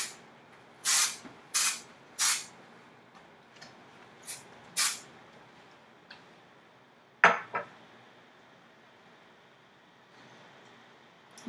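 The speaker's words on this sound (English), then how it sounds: "I like to really deconstruct it with the makeover spray" Hair texturizing makeover spray puffed from a can in short bursts, several sharp hissing sprays close by with small gaps between them, then a few fainter clicks and one more spray.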